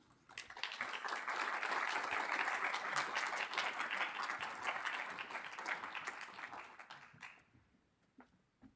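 Sustained audience applause at a book festival author event, a dense crowd of clapping that swells quickly, holds steady for several seconds, then tapers off into a few scattered claps.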